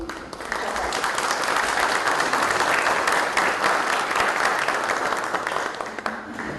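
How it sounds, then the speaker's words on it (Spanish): An audience at an ethical hacking conference gives a sustained round of applause for the guests at the head table, many hands clapping steadily and loudly for several seconds before fading slightly at the end. "quisiera que los recibamos con un fuerte aplauso"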